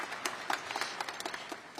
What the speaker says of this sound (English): applause to them